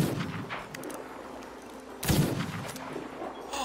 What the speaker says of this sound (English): I sniped him again!